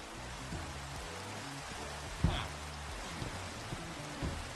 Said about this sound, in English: We're standing out here in the rain.